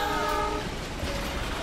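A train rolls past with its horn blaring, a loud, sustained tone held over a steady rumble of wheels and carriages, all close and continuous throughout.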